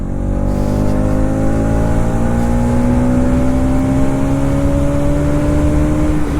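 A 2023 Bajaj Pulsar NS200 motorcycle engine revs after a downshift, its pitch climbing smoothly and steadily over several seconds as a loud, close, continuous whine with strong harmonics.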